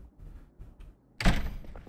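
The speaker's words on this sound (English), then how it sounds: "let's shut the door." A door shuts in the zombie survival game Project Zomboid with a single thudding slam partway through, following a stretch of quiet low rumble.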